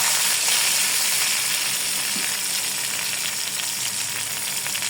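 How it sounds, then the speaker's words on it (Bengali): Slices of ash gourd fry in a pan, giving a loud, dense, steady sizzle that holds evenly throughout with no voices. "এইভাবে 2 পিস একটু কড়া করে সুন্দর করে ভেজে নিতে হবে।"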